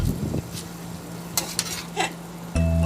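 White cabbage stirred through sauce in a pan for Kapampangan pancit canton, with a soft sizzle under brief scraping and clinking strokes near the start and middle, ending in a louder burst of frying.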